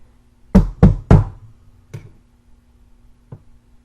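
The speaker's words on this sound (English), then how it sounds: "Several hours passed when a knock came at the door." Three sharp, loud knocks on a door in quick succession, then two softer, isolated taps follow after pauses, a sound effect in a spoken horror fairy tale, heard alone with no talk.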